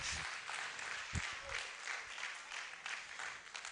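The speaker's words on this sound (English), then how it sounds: "Shall we give him a round of applause," A congress crowd at a national delegate gathering gives Nana Kojo Kra the First a round of applause, with quiet, distant, steady clapping and a few low thumps at the start.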